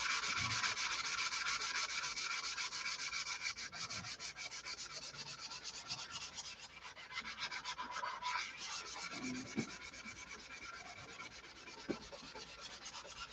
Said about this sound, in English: You hear the difference in the sanding sound? It's smooth now.